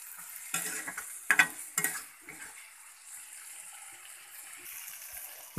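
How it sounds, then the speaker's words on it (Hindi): Masala and chickpeas fry on a low flame for bharwa parwal while a spoon stirs them, giving a few scraping strokes and clinks over a soft, steady sizzle. "सभी को मिक्स करके लो फ्लेम पे दोस्तों अच्छे से फ्राई करना है।"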